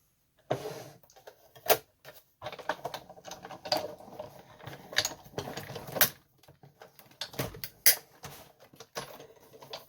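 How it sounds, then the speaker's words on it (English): A die-cutting machine presses a metal letter die through paper, giving off irregular clattering and ratcheting clicks in bursts, with brief pauses between them. "I'm adding my die letter to that paper, and we run it through the machine"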